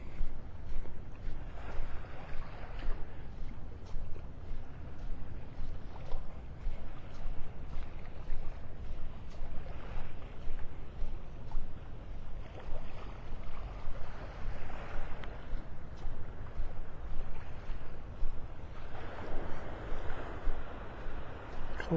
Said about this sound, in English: Listen to these little waves.